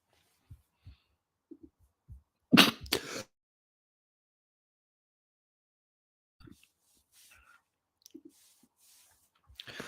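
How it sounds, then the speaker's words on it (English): A man coughs in a short loud burst of two or three harsh hacks, preceded by a few quiet mouth clicks and followed by faint shuffling and breathing noises. "It's not good, I'm coughing already."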